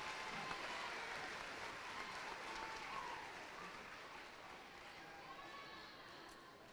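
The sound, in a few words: applause for award winners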